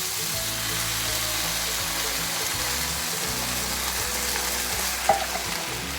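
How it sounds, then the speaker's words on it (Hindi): Coconut milk poured into masala frying in a pan for tandoori chicken cholay, giving a steady close sizzle and bubbling throughout with a brief sharp clink near the end. "और अब हम ऐड करेंगे कोकोनट मिल्क।"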